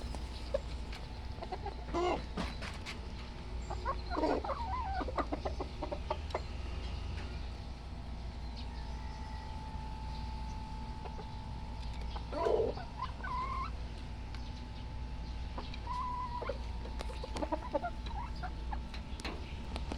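An eight-month-old stag, a young rooster, gives soft scattered clucks and short calls at moderate distance over a steady low outdoor hum, with the calls clustered in brief bursts rather than continuous.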